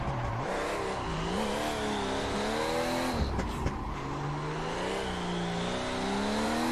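A Nissan S14 in the Assetto Corsa drift game revs hard, its engine note climbing and falling in sweeping waves, with a short burst of tire noise midway, loud and continuous with no talk.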